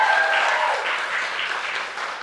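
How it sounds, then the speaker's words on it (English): Steady, dense applause from a crowd at a charity gaming event at the Theatre Deli, loud and continuous with no talk over it. "can we get a round of applause for the Theatre Deli?"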